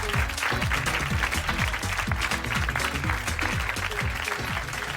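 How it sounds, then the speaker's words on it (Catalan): A studio audience applauds warmly as a guest is welcomed on a comedy talk show, steady dense clapping throughout with a host's voice heard faintly beneath it. "Allí està, aplaudiment per ella."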